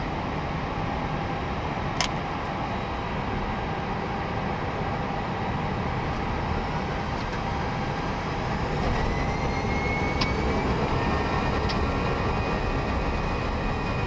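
Vueling Airbus A320-200 jet engines roar steadily as heard from inside during takeoff, a dense, even rumble with rising whine tones and no talking.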